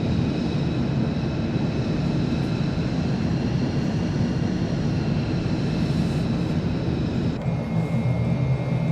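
F-35 Lightning jet engine taxiing in Microsoft Flight Simulator 2 on Xbox Series X/S: a steady, loud, droning roar with a high whine, continuous and unchanging throughout.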